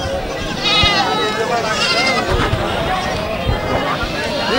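A ram goat bleating at a crowded goat market in Garobazar, a few wavering bleats rising over constant chatter and voices nearby.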